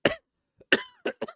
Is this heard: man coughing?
yes